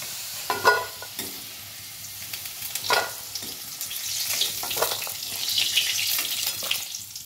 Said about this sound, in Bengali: আলুগুলো লাল লাল করে ভেজে নিয়েছি, আলুগুলো তুলে দেব।